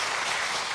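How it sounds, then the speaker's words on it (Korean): A church congregation applauds, a dense, even burst of clapping filling the brief moment with no voices over it. "한번 박수하겠습니다."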